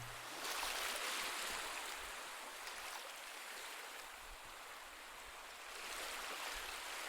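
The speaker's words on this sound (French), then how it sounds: "Le son des vagues est un mantra naturel qui vous envoûte" Sea waves wash against a rocky seashore in a continuous soft hiss that swells and eases slowly, heard from a short distance with no voices.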